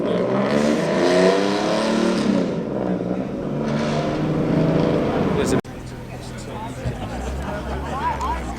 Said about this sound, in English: Quite a gaggle of cars leaving now.